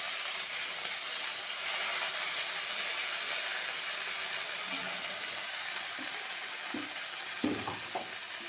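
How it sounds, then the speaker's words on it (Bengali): Gima leaves and green chilies frying in a pan: a loud, steady sizzle and hiss close at hand, with a few soft scraping stirs and clinks near the end. "এই গিমা শাকটা ভাজার জন্য দুটো কাঁচা লঙ্কা দিয়ে দিলাম"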